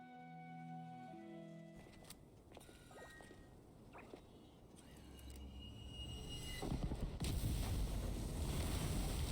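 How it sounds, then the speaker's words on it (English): Explosion in the video game Genshin Impact: a rumbling blast that swells from about two seconds in and grows into a loud, sustained roar with crackling debris, preceded by quiet game music. "Was that an explosion just now?"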